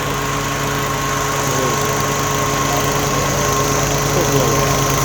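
Lawn mower engine running steadily while cutting overgrown, sandy grass, a continuous droning hum with a constant tonal whine, loud and close throughout.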